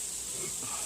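Sausage in a frying pan, cooking for breakfast burritos, gives off a steady close sizzling hiss for a moment.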